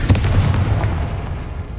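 A Confringo explosive spell in Hogwarts Legacy erupts with a heavy, close boom, a dense, loud blast that rumbles steadily and slowly tapers off.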